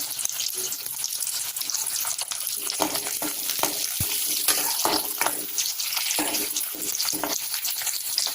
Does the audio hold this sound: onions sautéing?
yes